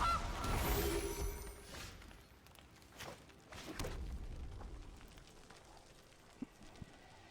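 A goose card played in Magic: The Gathering Arena lets out a honking cry, loud at first and then a few quieter honks trailing off over a soft rustling background.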